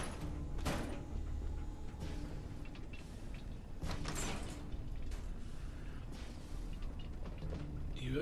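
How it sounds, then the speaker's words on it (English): Mechanical vault doors in Fallout 4's Vault 81 grinding and clunking open, several creaks and heavy thuds spread over a steady droning game ambience. "You opening doors again there, Dogmeat?"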